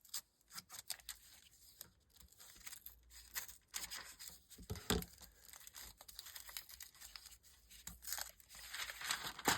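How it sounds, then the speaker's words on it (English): Paper envelope being pulled and torn apart by hand, with repeated close crinkling rips and rustles in short bursts and no voices. "thing that we do is take the envelope apart."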